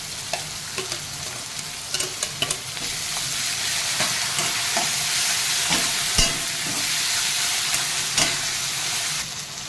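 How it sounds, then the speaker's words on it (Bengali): Onion, tomato and ground spice paste fry steadily in a pan for a Bengali sea crab curry, a continuous close sizzle with scattered clinks and scrapes of stirring. "এবার ভাজা ভাজা হয়ে গেছে পেঁয়াজ টমেটো এবার বাটা মশলাগুলো দিয়ে দেবো"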